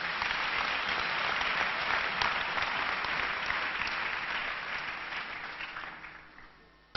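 A church congregation applauding and acclaiming during a French-language sermon, dense sustained clapping that holds steady for several seconds and then gradually fades away.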